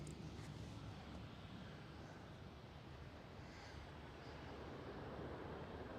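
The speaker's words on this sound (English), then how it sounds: "I do hear some loud engines. I think that could be the 747." Boeing 747 jet engines at Schiphol airport in Amsterdam: a steady, broadband roar heard faint and distant for several seconds, with no talking.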